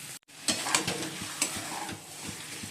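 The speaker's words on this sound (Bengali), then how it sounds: "আমরা মাছগুলো দিয়ে দিয়েছি" Fish frying in a pan, a close, steady hiss and crackle of hot oil broken by a few soft knocks of a utensil, with a brief silent gap at the start.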